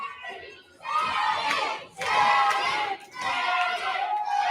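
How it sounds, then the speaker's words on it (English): Indie wrestling crowd cheering for Sammy, loud bursts of massed shouting and chanting voices in repeated waves separated by brief dips, close and full. "they're cheering Sammy"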